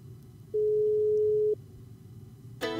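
A phone call rings through to another handset, heard as a steady electronic tone held for about a second and then a brighter ringing burst starting near the end. It is clear but fairly faint.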